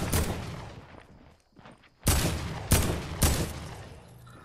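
Gunfire in Fortnite: Battle Royale: a burst of rapid shots, a brief lull, then three loud separate shots spaced about half a second apart.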